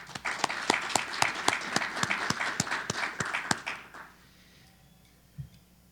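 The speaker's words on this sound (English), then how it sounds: "please join me in giving them a round of applause" Audience applause for event sponsors at an education gathering, a dense burst of clapping with sharp individual claps that fades out after about four seconds, leaving quiet room tone and one faint knock.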